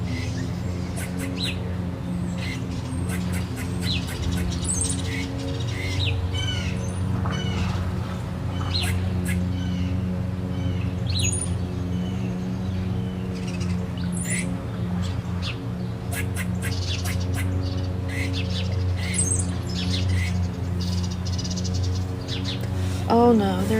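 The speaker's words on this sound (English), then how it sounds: "I still want to stay with the birds for just a little bit longer" Several birds sing and chirp outdoors in quiet natural surroundings, bright calls and short tweets scattered across the whole stretch over a low, steady hum, some calls close and others farther off, with no one talking.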